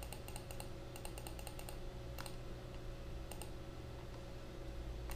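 A password being typed on a computer keyboard attached to a network video recorder: quick clusters of soft key clicks, then a few isolated taps over a steady electrical hum, close and quiet.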